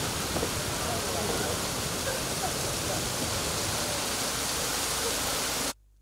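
Steady rain falls on an outdoor picnic gathering of media workers in Benin, a dense continuous hiss that cuts off abruptly just before the end.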